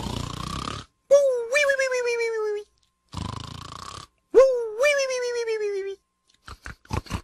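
Cartoon-style snoring from a lazy sleeping character in a game or animation: two cycles of a breathy, rasping inhale followed by a wavering, whistling exhale, ending with a few short clicks.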